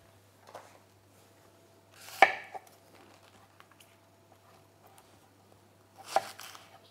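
A knife slicing through a leek on a cutting board: two distinct, sharp chopping cuts a few seconds apart against a quiet background, close and fairly crisp, with faint handling noises between them.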